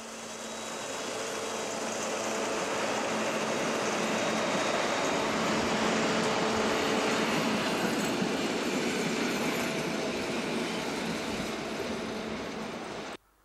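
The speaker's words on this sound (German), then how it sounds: "Hier 228, 728 bei der Ausfahrt in Brandenburg." A Deutsche Reichsbahn class 228 diesel locomotive pulling out of Brandenburg station, a loud continuous rumble with rhythmic wheel clatter over rail joints and faint squeals, sustained close by for over ten seconds before cutting off.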